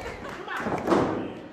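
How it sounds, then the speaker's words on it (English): A professional wrestler lands a Vader bomb in the ring, a single heavy thud on the canvas under loud crowd noise and commentary, with the impact fairly muffled and brief. "And with that Vader bomb"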